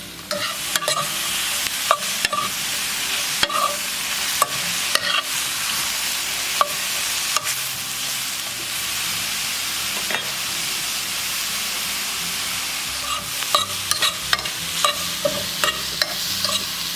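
Mushrooms frying in a pan with onions, ginger and spices, a steady loud sizzle with repeated scraping and clacking as they are stirred, close up and with no one speaking.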